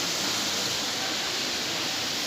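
Steady broadband rush of a waterfall inside the Temperate House glasshouse at Kew Gardens, a loud, continuous hiss with no voices over it.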